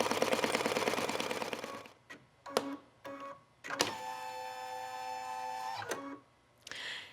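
An embroidery machine stitches an outline for a zipper clutch pouch, first a rapid steady buzz of needle strokes, then pauses broken by clicks and a whirring hum as the mechanism moves and resets, heard close with no voices.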